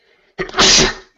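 A single loud, sharp sneeze bursts out close by, preceded by a quick intake of breath.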